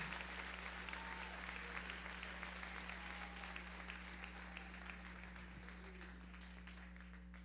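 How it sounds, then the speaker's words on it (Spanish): Church congregation clapping together for several seconds after a call to applaud, a dense steady patter of many hands with some cheering and a low hum underneath, tapering slightly toward the end. "Dale un aplauso al Rey en esta hermosa y preciosa mañana."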